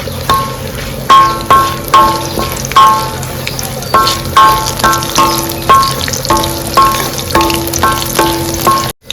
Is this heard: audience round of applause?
no